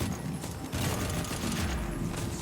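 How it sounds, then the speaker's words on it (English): Dense gunfire and explosions in the Firefall video game rattle in rapid overlapping bursts with heavy booming thuds, continuous and loud throughout. "Explosions all over the place."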